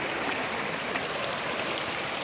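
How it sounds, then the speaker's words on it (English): A creek rushes beside a waterfall after rain, a steady loud broadband wash of flowing water, close and continuous with no voices. "And there's the big waterfall over there."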